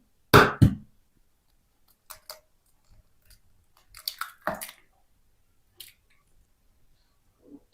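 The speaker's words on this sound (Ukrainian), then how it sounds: "Вбиваю сюди яйце." A single egg cracked into a container for homemade mayonnaise gives one sharp, close crack, followed by a few faint soft taps and wet clicks in an otherwise quiet kitchen.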